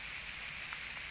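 Rain falls on a rice paddy, a brief steady hiss of drops with no talk.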